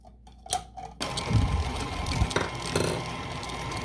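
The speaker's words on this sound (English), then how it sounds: "Now let's use the coarse grate to do carrots." KitchenAid stand mixer with the coarse grater attachment shredding carrots, a steady mechanical whirring and rattling that starts after a few short bursts and runs loud and close.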